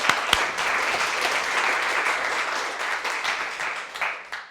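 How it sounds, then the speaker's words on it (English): Conference hall audience at a humanism leadership conference breaks into sustained applause, a dense, even wash of many hands clapping that holds steady for several seconds before tapering slightly. "Debbie, we'll have a round of applause"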